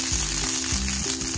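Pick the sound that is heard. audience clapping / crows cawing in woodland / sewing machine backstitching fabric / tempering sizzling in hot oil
tempering sizzling in hot oil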